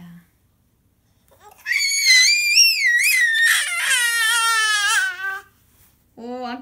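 A small creature screeches in bursts, shrill wavering squeals rising and falling at close range, with short gaps between bursts.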